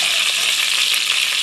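Pork browning in a cast iron pan gives a loud, steady, close sizzle that continues without a break and without speech.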